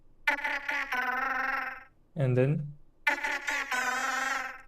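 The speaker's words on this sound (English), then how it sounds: "We have another example here, just the kazoo." Kazoo buzzing as creature voice design for a Nevron from the game Clair Obscur: Expedition 33: two long nasal buzzy phrases with a short lower, warbling buzz between them, close and clear, with a brief spoken word.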